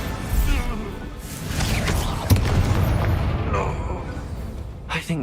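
A Bombardo spell explosion in the video game Hogwarts Legacy lands as a single sharp boom midway through, set within a rumbling battle soundscape while a voice talks over it.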